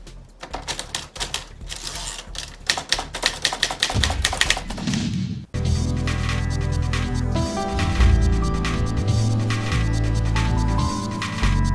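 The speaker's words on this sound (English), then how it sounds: "Kasama ko ang aking very best friend, ang typewriter." A typewriter clatters with rapid, uneven keystrokes and sharp strikes at close range, then the sound changes abruptly to a dense, continuous mechanical rattle that carries on steadily.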